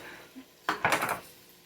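A knife cuts a two-pound block of cheese into cubes on a cutting board, giving a few quick close chopping knocks in a short burst against a quiet kitchen background.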